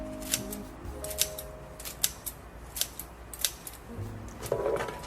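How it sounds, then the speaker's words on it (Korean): Scissors snip through castor bean leaves in a string of crisp, evenly spaced cuts, close and clear, with a faint hum underneath and no voices. "찢어서 가위로 잘라줍니다"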